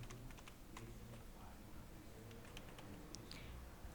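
Someone types a password on a computer keyboard, with faint, quick key clicks over a steady background hum.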